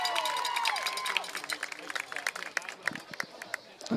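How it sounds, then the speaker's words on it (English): Parents and a handful of students cheer at a Wayne Valley vs. Wayne Hills high school football game after a completed pass, a moderate, fairly distant crowd roar with scattered claps and shouts, with a whistle-like tone early on. "Here the crowd cheers."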